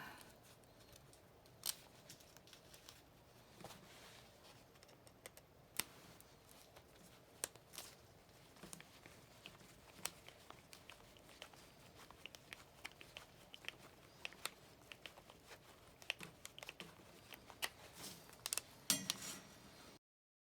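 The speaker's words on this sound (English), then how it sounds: "I don't have the fancy BX tools, so I bend and let my dikes cut." Diagonal cutters snipping and bending BX armored cable during a boiler service call, with a scattered series of faint metallic clicks and snips, close and quiet, irregular in rhythm with no talk.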